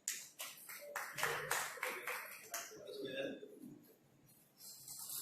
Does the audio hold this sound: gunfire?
no